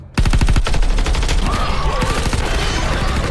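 Sustained rapid gunfire from a sci-fi war film battle against attacking aliens, loud and dense volleys bursting in after a brief quiet start, with a whining tone weaving through the barrage.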